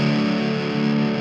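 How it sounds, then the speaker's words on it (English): An electric guitar played through heavy distortion sustains one loud, dense chord that rings out steadily with no break and no talking. "One of the things that I love so much about distortion or gain or however you want to put it is you can go"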